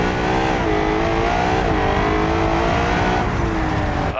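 A family sedan in the BeamNG driving game races at full throttle, a loud sustained engine roar with a high revving tone that wavers slightly as the car fights for traction, steady and close throughout.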